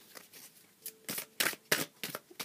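A deck of tarot cards is shuffled by hand, giving several quick, close riffling bursts in an uneven rhythm with no speech.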